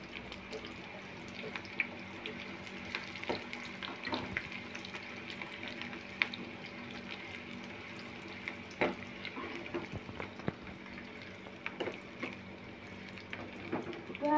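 Onions frying in oil in a pan for masala capsicum, a soft continuous sizzle with scattered clinks and stirring scrapes, fairly quiet and close.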